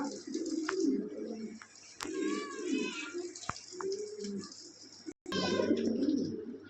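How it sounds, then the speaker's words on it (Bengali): Imported bloodline Lahori pigeons coo in low, rolling bursts close by, broken by sharp clicks and a brief dropout, with a few higher call-like notes above. "এখানে এক পেয়ার নিউ অ্যাডাল কবুতর আছে"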